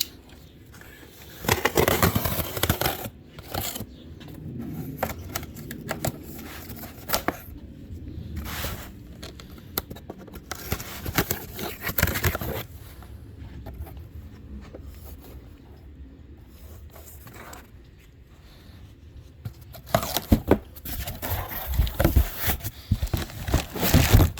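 Packaging of an Autel Bluetooth diagnostic scanner being opened, with close crinkling, rustling and tearing of wrappers in irregular bursts, and a few quiet pauses between handling noises.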